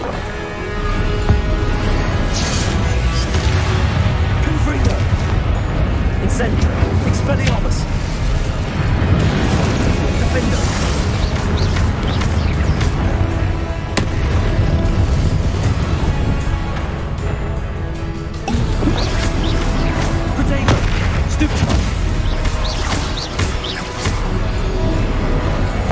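Repeated fiery explosions from the Confringo spell in Hogwarts Legacy, dense loud booms and bursts layered over constant combat noise and music, with no clear gaps between blasts.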